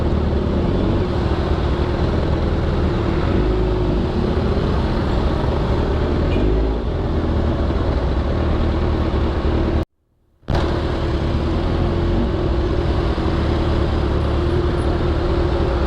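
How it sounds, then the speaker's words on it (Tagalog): Steady roadway traffic and engine rumble while riding a Kawasaki Z1000 motorcycle stuck in traffic on a hot day, continuous and close with a brief dropout partway through. "Wala na, ipit-ipit na sa traffic."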